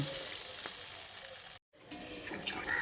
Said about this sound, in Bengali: এর মধ্যে 1 বাটি পরিমাণ জল দিয়ে দিচ্ছি